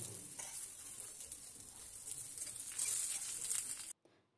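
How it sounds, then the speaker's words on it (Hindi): Vegetarian fasting cutlets shallow-frying in a little oil, giving a soft continuous sizzle with brief crackly bursts before the sound cuts off near the end. "बाकी बचे हुए कटलेट को भी मैं वैसे ही फ्राई कर लेती हूँ कम तेल में"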